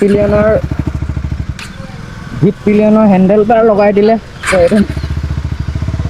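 Husqvarna Svartpilen 250 motorcycle, fully modified, idling with a steady low engine rumble close by, pausing briefly twice while someone talks over it.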